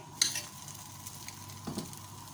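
Fish paratha cooking gently in a pan, a faint low sizzle with a quick metallic clink of a utensil at the start and a soft scrape later.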